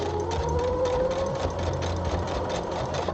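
A sewing machine runs steadily through a super fine top stitch, a continuous close mechanical whir with a faint rhythmic pulse and a low motor hum throughout, with no voices.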